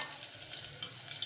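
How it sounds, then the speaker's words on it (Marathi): Chopped onion goes into hot oil with green chillies, cumin and mustard seeds, giving a faint, steady sizzle and crackle over a short moment. "हिरवी मिरची भाजून आता टाकायचं कांदा कट केलेला."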